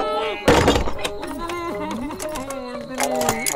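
A single heavy thud as a door slams shut and is locked, followed by people talking nearby.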